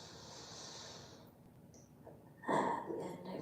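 A slow yoga exhale drawn out through the mouth as a long, soft airy breath, then a quieter pause before a stronger breath or movement noise near the end, close and calm.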